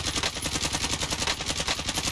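Rapid, sustained automatic machine gun fire in the video game Call of Duty Warzone, a continuous close burst of evenly spaced shots with no pause.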